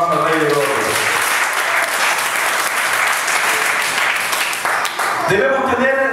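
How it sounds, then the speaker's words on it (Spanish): A church congregation breaks into loud, sustained applause that fills the room for several seconds, dense and steady before tapering near the end. "Denle un fuerte aplauso al Rey de Gloria."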